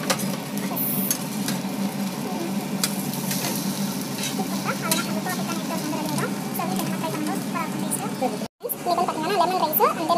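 Egg dosa sizzling steadily in a hot pan, with a spatula scraping and flipping it, under continuous Tamil speech.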